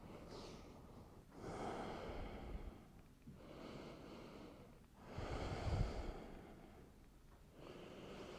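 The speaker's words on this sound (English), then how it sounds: "breathing through the nose." Slow nasal breathing during a gentle pregnancy yoga session, with long, soft inhales and exhales repeating in a steady rhythm, close and quiet, with no talking.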